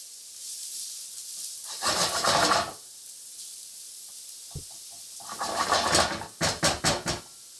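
Shallots fry in olive oil in a risotto pan, a steady hiss with louder sizzling bursts, one around two seconds and a longer stretch near six seconds, plus a brief clink and short rapid stirring surges.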